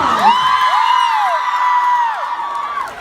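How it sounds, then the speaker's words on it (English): A crowd at a Trans Day of Visibility event in Freehold, NJ cheers and whoops loudly, with high shouts rising over steady applause that runs close and dense throughout. "So round of applause."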